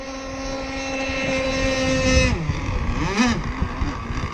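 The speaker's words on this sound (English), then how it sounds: "I'm gonna turn left and let up on the throttle" A gas-powered RC boat on a Vbox hull whines steadily at high throttle, then drops in pitch as the throttle eases during a left turn, with a brief warbling surge afterward, moderately loud and without speech.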